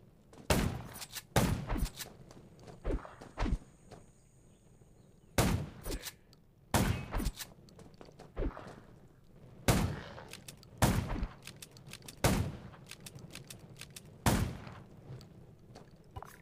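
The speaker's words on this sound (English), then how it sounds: "Gunshots will attract more zombies." Gunshots in the zombie video game Garena Undawn, a dozen or so sharp single shots and short bursts spaced irregularly across quiet game ambience.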